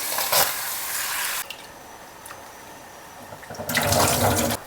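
Tap water runs over poha (flattened rice) being washed, loud splashing bursts at the start and end with a quieter trickle and faint clinks between.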